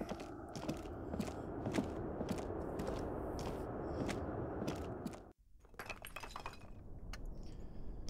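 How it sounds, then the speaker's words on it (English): A window shatters in the video game Disco Elysium with a sustained crunch and tinkle of breaking glass. It ends in an abrupt cut, followed by sparser scattered clinks of falling shards. "Why couldn't we just break a window and go in"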